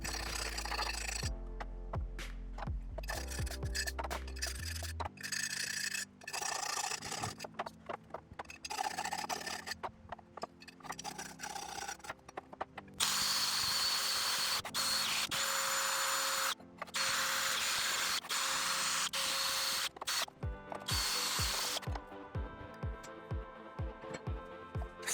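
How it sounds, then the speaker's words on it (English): A rusty axe blade being ground down to restore its edge, with long, loud, steady abrasive rasping that runs almost without pause, shifting in pitch and intensity as the tool bears on the steel. "So I'm going to grind that down significantly, trying to get that edge back again and sharpen it"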